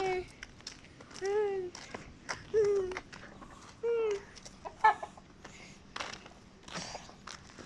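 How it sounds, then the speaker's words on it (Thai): Chickens cluck in short, separate bursts of clucks and calls spread over several seconds. Soft scuffs and footsteps sound between the calls, and the birds are close by in a quiet yard. "ไก่จ้า"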